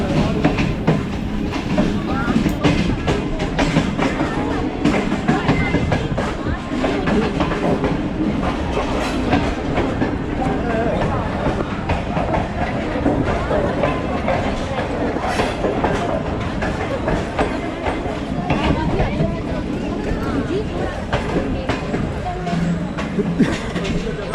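The Allama Iqbal Express runs between Sialkot and Lahore with a steady rolling rumble and rhythmic clickety-clack of the rail cars, loud and continuous throughout.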